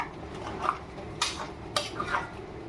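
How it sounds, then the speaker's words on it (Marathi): A spoon stirs a thick mango and jaggery preserve in a kadhai over low heat, giving soft scraping with a few sharp metallic clinks against the pan, close and quiet, with no talking. "हे सारखं ढवळत राहिलं ना मग आपल्या कढईला लागत नाही"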